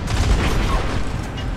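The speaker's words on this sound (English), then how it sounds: "Rapid fire solar little cannons." Rapid-fire solar cannons shoot in the Destiny shooter game, a dense, continuous barrage of loud blasts and booms filling the whole stretch, with a voice briefly audible in the mix.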